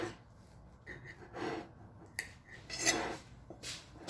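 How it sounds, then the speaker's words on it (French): Knife cutting a small slice from a stovetop-baked apple cake: a few soft scrapes and sharp clinks of the blade against the plate, close and fairly quiet, with light breathing. "Je vais couper ici parce qu'il y a beaucoup de pommes"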